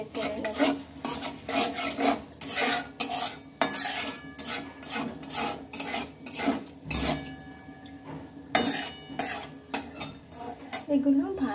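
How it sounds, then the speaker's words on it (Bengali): Dried red chilli, cardamom and cinnamon fry in hot oil in a pan while a utensil stirs them. Close, repeated scraping and clinking strokes run steadily throughout, with no one talking. "এগুলো এখন একটু আমি নেড়ে চেড়ে নেব।"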